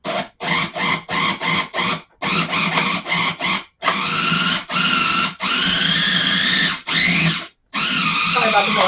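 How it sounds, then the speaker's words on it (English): A small mini chopper whirs in loud bursts as it chops almond butter, dates and banana, pulsing in short starts and stops before running longer stretches, with the motor's pitch shifting as the mixture sticks. "we're going to add it to this little mini chop and just chop it again"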